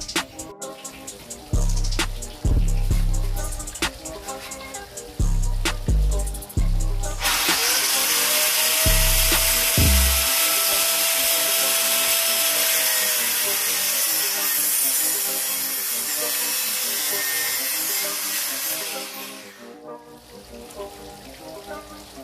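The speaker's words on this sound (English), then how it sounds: "cut this out, sanded it down, or grinded it down" Power tools work a part on an electric Razor MX650 pit bike: short bursts of whirring cutting start and stop repeatedly, then a long, loud, steady grinding hiss runs for about twelve seconds before stopping.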